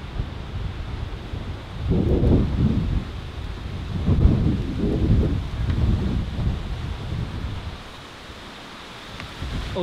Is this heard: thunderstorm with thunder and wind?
yes